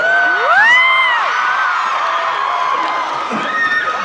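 A large concert crowd cheers, whoops and screams continuously at close range, with high rising shrieks from many voices layered over a steady roar.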